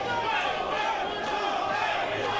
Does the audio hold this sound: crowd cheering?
yes